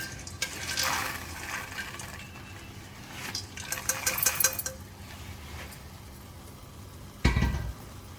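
Fried moong dal pieces clatter and stir into hot sugar syrup in a pan, with scraping spoon strokes, a soft bubbling hiss and a sharp thud near the end.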